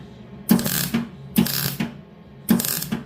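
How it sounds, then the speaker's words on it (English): Short bursts of welding crackle and buzz on a VW T4 van body at the sills and B-pillar, three loud pulses with brief pauses between, close and without talk. "And as you can hear, Mr. Namo is welding now"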